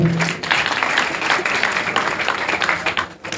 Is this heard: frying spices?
no